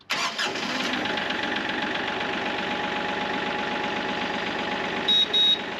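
A Kubota tractor engine cranks and catches, then runs at a steady, even idle close by, with a brief higher-pitched whine near the end.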